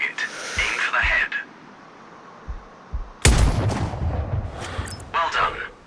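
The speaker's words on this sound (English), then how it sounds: "Now, shoot this target. Aim for the head." In the video game Sniper Ghost Warrior Contracts, a sniper rifle fires one loud, sharp shot at a target, followed by a brief rumbling tail. A voice talks before and after it.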